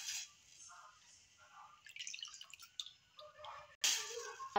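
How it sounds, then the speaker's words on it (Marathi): Cut potato finger chips drop into a pot of heated salted water, giving soft splashes and drips close by, with a louder splash near the end. "आता आपण याच्यात हे फिंगर चिप्स जे आहे कापलेले ते घालूया"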